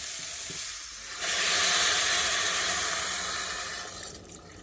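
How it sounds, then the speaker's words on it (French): Water poured into a pot of carrots for a turmeric carrot soup, a steady rushing splash that swells after about a second, holds for a few seconds, then tapers off, close and fairly loud. "Voilà, je couvre d'eau."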